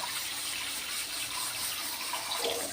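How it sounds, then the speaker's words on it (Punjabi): Steady rushing of water being poured into a wok, a continuous close hiss with no voices. "ਇਹਦੇ ਵਿੱਚ ਆਪਾਂ ਪਾਣੀ ਪਾ ਦਾਂਗੇ"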